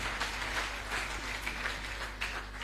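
A church congregation applauds, a faint wash of scattered clapping at a moderate distance that carries on evenly for a few seconds, no voices.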